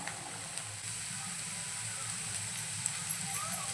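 Finely chopped French beans tossed into a pan with browned onion, a steady soft sizzle and hiss throughout with a few light clicks at the end.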